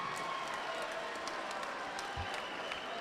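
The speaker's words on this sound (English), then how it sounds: "how about a round of applause for both men putting it all on the line for 3 hard-fought rounds tonight" A crowd at an NEF 32 fight night applauds both boxers after a three-round bout, steady distant clapping and cheering filling the arena evenly throughout.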